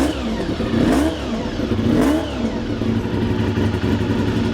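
A motorcycle engine running in a shop, fired up with a battery booster, rises twice in quick revs about a second apart, then holds a loud, steady running drone close by.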